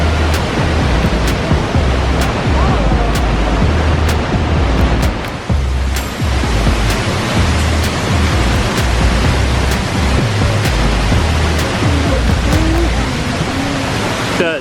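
Kvernufoss waterfall in a canyon in Iceland pours with a steady, loud broadband roar that never lets up, with faint ticking clicks scattered over the rush of water.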